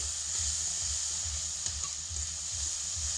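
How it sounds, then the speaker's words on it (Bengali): A potato and aubergine mixture frying over medium heat, giving a continuous close hissing sizzle with a faint low rhythmic bubbling underneath and no voices. "এই সমস্ত কিছুকে আগে ভালো করে লাল করে ভেজে নেব অবশ্যই মিডিয়াম আঁচে রেখে"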